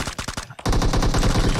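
Gunshots in a zombie-mode shooter video game: a quick string of sharp automatic shots, a brief pause, then a longer sustained burst of rapid fire, loud and close, with no talk.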